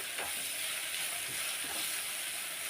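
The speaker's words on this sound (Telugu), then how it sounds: "టమాటా ముక్కలు కూడా వేగాయండి చూడండి" Tomato pieces fry in a pan for a pickle, sizzling as a steady hiss with a few soft scrapes of stirring, heard at a modest level with no talking.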